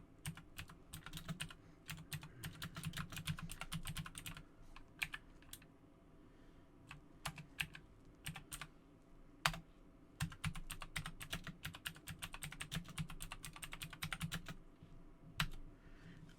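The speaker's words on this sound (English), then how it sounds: "you're going to hear me typing at approximately nothing per second" Notes are typed on a computer keyboard in quick, irregular bursts of light clicks with short pauses between, close and quiet with no talking.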